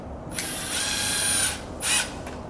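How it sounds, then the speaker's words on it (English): A power drill drives screws through overlapping pieces while a thatch umbrella is being installed. One longer high-pitched whirring run is followed by a shorter burst, both loud and close. "And so we'll put the screws in, running through both pieces."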